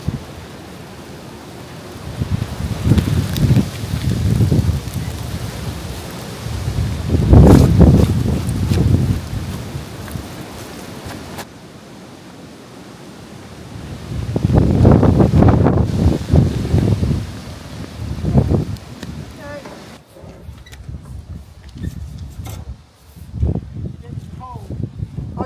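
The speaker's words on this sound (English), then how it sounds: "When that wind started, yeah, it's gone really chilly." Wind gusts across a homestead, buffeting the microphone in strong, rising and falling surges with calmer stretches between, while people talk through it.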